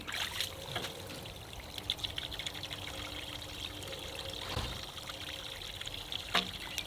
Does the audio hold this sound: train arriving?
no